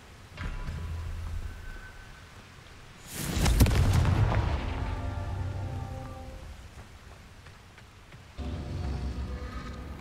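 A Confringo blasting spell detonates in Hogwarts Legacy, a loud broadband burst near the three-second mark with crackling, rumbling debris that decays over several seconds, framed by quieter game ambience before and after.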